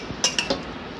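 Rice is served onto a plate, with three quick, bright clinks of dishes and cutlery close by, then quiet.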